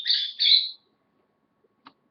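Birds coming in toward a rope, two close, loud, harsh squawking calls in quick succession, then near silence with a faint brief click.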